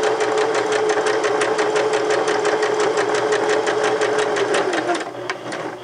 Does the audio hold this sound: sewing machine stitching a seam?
yes